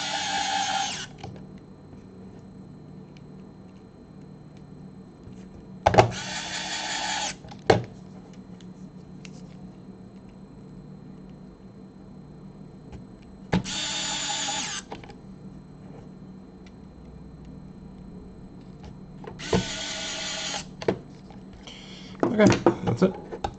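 A power driver runs in the last four screws on a storage case for a NES/SNES Classic, four short separate whirring bursts spaced a few seconds apart, with clicks and handling noises between them.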